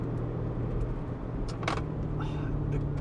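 A C6 Corvette idles with its valved mufflers closed, a steady low rumble and a quiet, subdued stock-like exhaust note, with a few brief clicks and faint noise above it.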